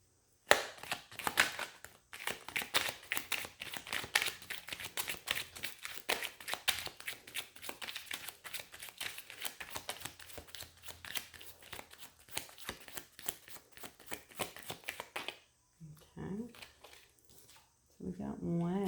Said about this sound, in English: Let me shuffle these normal.